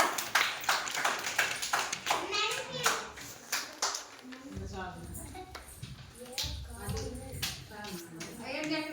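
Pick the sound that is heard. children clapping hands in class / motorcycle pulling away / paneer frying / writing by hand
children clapping hands in class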